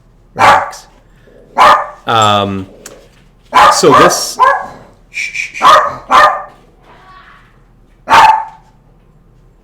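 A pup barks in sharp, loud bursts close by, with one drawn-out whining yip among them, while a person hushes and talks quietly between the barks.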